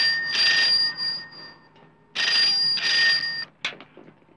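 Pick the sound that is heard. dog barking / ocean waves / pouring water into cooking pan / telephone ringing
telephone ringing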